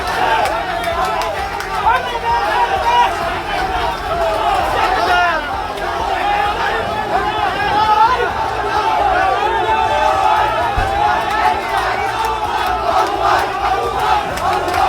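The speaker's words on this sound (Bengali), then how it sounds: "শুক্রবার নোয়াখালী সদর উপজেলার নন্নবাদের হাটবাজারে মিছিল করে নিষিদ্ধ ঘোষিত" Crowd of marchers in a procession by the banned Chhatra League at the Nonnobad market in Noakhali Sadar, loudly chanting slogans in a dense, continuous roar of many voices that holds steady throughout.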